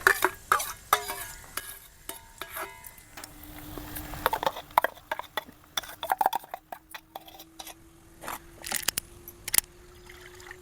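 Oil sizzling and crackling as onion fries in a hot pan, with irregular pops and clatters of stirring, a steady hiss running throughout at close range.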